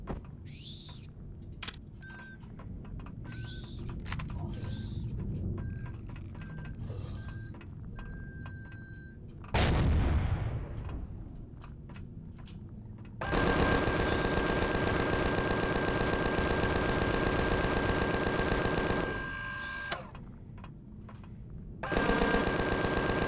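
Rapid automatic gunfire in the sci-fi survival game Empyrion Galactic Survival, long sustained bursts broken by a heavy blast and electronic beeping tones, loud and close with no talking.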